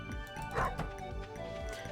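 Dog barking in the farming video game Stardew Valley, a few short yips over game music, faint and brief.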